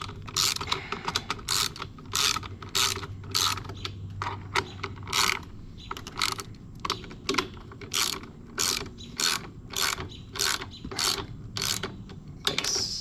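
A ratchet with a 10mm socket tightens the carburetor nuts on a lawn mower, producing rapid bursts of crisp clicking strokes repeated in a steady rhythm, close and clear.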